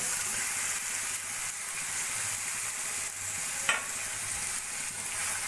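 Fried cauliflower florets stirred into a hot, oily spice paste of chilli powder, a steady bright sizzle with a soft scrape of the spoon partway through, close and continuous.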